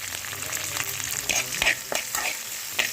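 Thinly chopped onions drop into hot oil and fry with a loud, close crackling sizzle, broken by a few sharp stirring scrapes and clatters and no talk.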